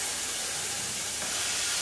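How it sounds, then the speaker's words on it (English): Steam released from a coffee machine with a faulty group solenoid hisses steadily and broadband for about two seconds, close and continuous, with no talking. "let all the steam out"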